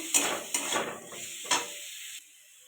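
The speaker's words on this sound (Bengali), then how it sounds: "চিকেন দিয়ে দেবো লবণ এটা আর একটু ভালো করে কষিয়ে" Chicken with salt and butter stirred and sautéed in a wok-style pan, with soft sizzling and a few scraping stirs of a spatula, close and moderately quiet.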